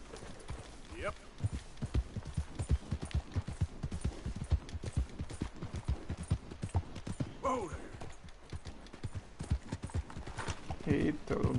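Horse hooves clip-clop steadily in Red Dead Redemption 2 as the mount picks its way along a narrow path, a quick, even rhythm running the whole time with someone talking over it.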